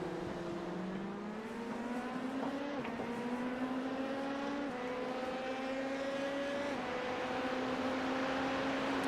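Race car engine at Fuji in the iRacing video game, a loud, sustained buzzing engine note climbing in pitch through gear changes, heard close and alone without talk.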